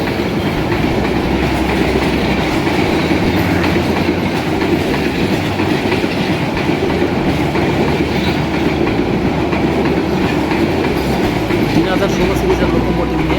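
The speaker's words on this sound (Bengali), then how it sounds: "ঢাকা থেকে ছেড়ে আসা বুড়িমারিগামী 809 up Burimari express Raninagar rail স্টেশনের 1 নম্বর লাইন দিয়ে এই মুহূর্তে প্রবেশ করছে" The Burimari Express, an intercity train of Bangladesh Railway, rolls into Raninagar railway station on line 1. It makes a loud, steady rumble with continuous rhythmic wheel clatter throughout.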